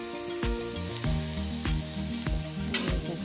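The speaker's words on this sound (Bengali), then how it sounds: "পেঁয়াজ দিয়ে একটু নাড়াচাড়া দিই।" Onions fry and sizzle in a pan while being stirred, with rhythmic scraping strokes every half second or so over a constant crackling hiss, close and clear with no talking.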